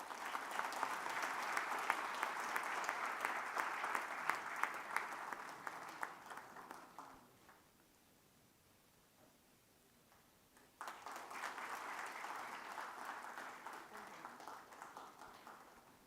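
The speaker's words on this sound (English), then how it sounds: "Please give them a round of applause." A conference inauguration audience claps in sustained applause, fading into a quiet pause before a second round of clapping swells up again, moderately distant.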